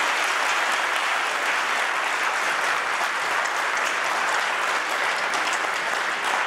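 Loud, sustained applause from a crowd at a nativity scene competition in Brescia fills the whole clip, dense and even, with no pause.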